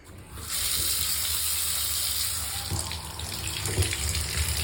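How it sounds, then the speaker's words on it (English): Bath tap opened fully and gushing into a flow-measuring cup, a loud, steady rush of water that starts abruptly and continues unbroken, close by, with no speech over it. "put a flow cup underneath the bath, it's tap itself whilst open full"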